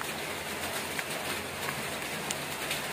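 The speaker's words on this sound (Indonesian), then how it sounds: "hujan malah" Steady rain pours down as a dense, even hiss with scattered drop impacts, constant and fairly loud throughout.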